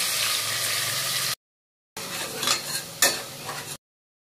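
Onion paste poured into hot oil in a pan and stirred for a mutton curry, sizzling and frying in two short bursts broken by a gap, with stirring scrapes, near and moderately loud.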